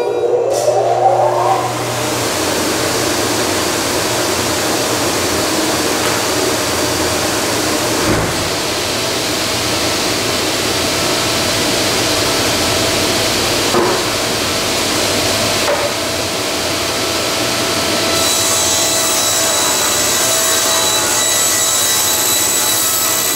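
A circular saw rips through plywood in a workshop with a long, loud, steady whine, continuous for over twenty seconds and shifting slightly in pitch near the end, with no talk.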